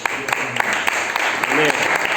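A congregation claps during a church Bible class, with bursts of applause rising and falling while a voice speaks over it.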